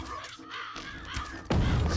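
A crow caws several times in the VR game Trickster VR, harsh repeated calls mixed with game sounds, ending in a louder burst of noise.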